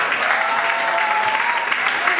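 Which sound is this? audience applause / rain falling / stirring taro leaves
audience applause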